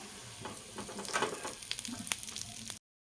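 Pumpkin flower fritters frying in oil, a soft, close sizzle with scattered pops and light scrapes of a utensil, quiet and without talk, cutting off abruptly.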